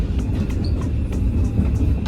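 A Paris metro train runs along the track with a loud, steady low rumble and faint periodic rattling clicks from the moving carriage, and no one speaks.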